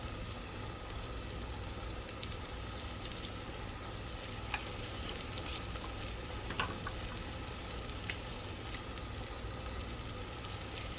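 Meat seasoned with garlic salt and onion powder frying in a pan, a soft continuous sizzle with occasional small crackles and pops, fairly quiet and steady with no talking.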